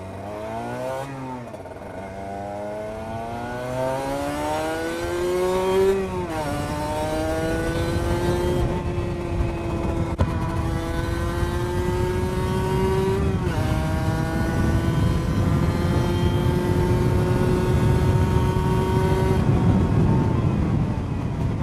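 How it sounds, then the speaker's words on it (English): A Cagiva Mito two-stroke sport motorcycle accelerates during a ride, its high buzzy engine winding up through repeated rising pitch sweeps with brief drops at each gear change, loud and close over wind noise. "It's crazy how much power these little two stroke engines have."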